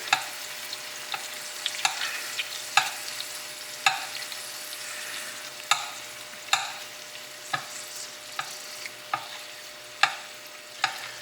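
Steak sizzles steadily in a pan while butter is spooned over it, a continuous close frying hiss broken by regular soft splashes and spoon taps roughly every second.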